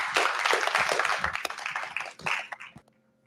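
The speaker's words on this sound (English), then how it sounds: "A round of applause, please." An audience at a panel discussion claps in a dense burst of applause that thins out and fades away after a few seconds.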